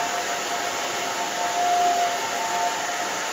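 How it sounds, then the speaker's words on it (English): Handheld hair dryer blowing steadily while drying the back of an older woman's short haircut in a salon, a continuous close whooshing roar with a faint whine, swelling slightly midway. "We're just gonna dry this down in the back."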